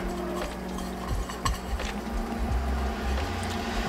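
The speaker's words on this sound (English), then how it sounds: "Give it a good old stir a little bit." Goose meat coated in Cajun seasoning being stirred in a pan, with steady scraping and clinking of a utensil against the cookware over a soft sizzle, close and continuous.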